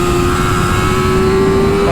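A 2018 Yamaha YZF-R6 sport bike with a Yoshimura accessory muffler holds a loud, steady high-pitched engine drone with a slowly rising tone, as if revving on a race track, while someone talks over it.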